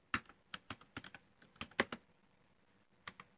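Computer keyboard typed on while renaming a CapCut project, a short burst of separate clicky keystrokes, soft and close, with pauses between groups and no talk.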